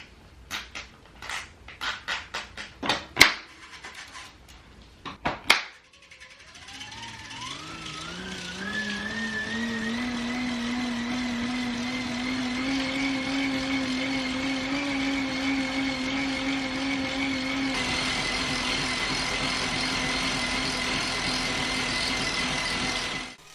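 CycleOps Magnus smart trainer ridden on a bike: a few sharp clicks and clunks as the rider mounts, then a whirring hum that rises in pitch as the flywheel spins up and holds steady, growing slightly louder toward the end.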